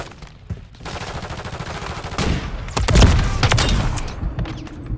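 Rapid bursts of video game gunfire from Call of Duty crackle continuously alongside heavy thumping explosions, loud and dense, with no voices.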